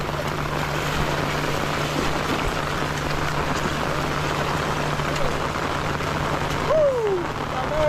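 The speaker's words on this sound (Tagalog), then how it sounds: "Ulan na ng todo." Heavy rain pours down outdoors in a muddy setting, a loud, dense, continuous roar with a low steady hum underneath and a brief whistling tone near the end.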